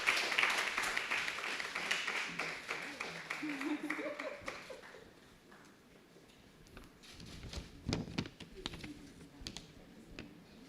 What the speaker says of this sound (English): All right, round of applause, please, ladies and gentlemen